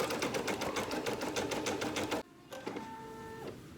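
A home embroidery machine stitches a design onto a towel with a fast, steady mechanical rattle of needle strokes, close and loud, then drops to a quieter whirring hum with a brief higher tone.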